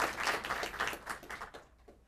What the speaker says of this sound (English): please give us a round of applause for Marija.